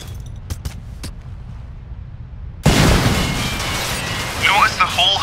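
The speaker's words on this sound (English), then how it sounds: "Throw a frag grenade through the window and into the hut." A frag grenade goes off inside a hut in Crysis with a sudden loud blast midway, after a few sharp earlier pops, followed by a sustained rumbling collapse and debris noise that persists to the end.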